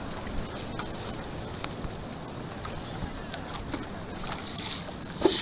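Kayak paddles dip and splash steadily on open water outdoors, with light wind noise across the microphone and a sharper splash near the end.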